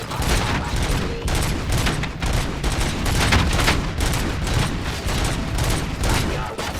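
Rapid, loud gunfire from RoboCop's weapon in RoboCop: Rogue City pounds continuously in dense bursts with brief gaps, a heavy, close barrage throughout.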